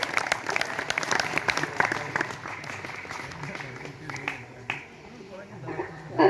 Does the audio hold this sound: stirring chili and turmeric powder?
no